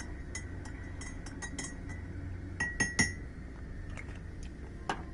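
A spoon stirs sugar into a cup of tea, giving light ringing clinks against the cup, scattered and irregular, with a cluster of brighter taps in the middle and one more near the end over a low background hum.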